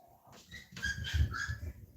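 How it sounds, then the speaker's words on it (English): Dogs upstairs in a house let out a short run of excited barks and whines, muffled and fairly faint. "Dogs are going crazy upstairs."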